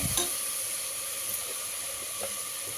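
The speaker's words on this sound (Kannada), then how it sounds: "ಆಮೇಲೆ ಒಂದು ಸ್ವಲ್ಪ ಫ್ರೈ ಮಾಡ್ಕೊಬೇಕು ನೋಡಿ ಈ ಥರ ನೋಡಿ" Ingredients for fenugreek pulao frying in a pan, a steady soft sizzle and hiss with occasional faint stirring clicks, moderately quiet and continuous.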